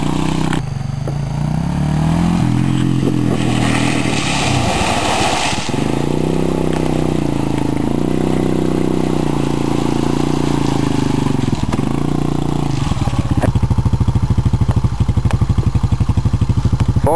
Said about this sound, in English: Fourth gear into the mud hole.